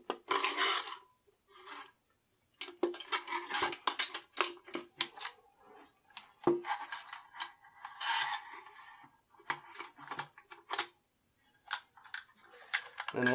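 Metal parts of a Pardus SL shotgun click, scrape and slide together at close range as the action bar is fitted. Short bursts of handling noise are separated by brief quiet gaps.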